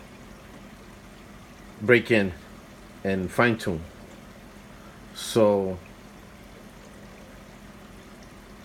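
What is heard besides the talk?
water trickling from aquarium sump under protein skimmer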